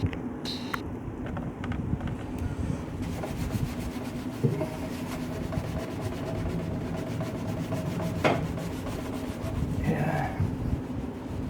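Scrubbing grease off the outer surface of a Weber grill: a steady rough rubbing and scraping continues throughout, close and moderately loud, with brief faint sharper strokes.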